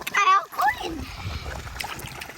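Water splashes loudly as a toy Monster Jam monster truck plunges into a muddy lake, a brief burst of splatter followed by lighter sloshing, with a voice talking over it.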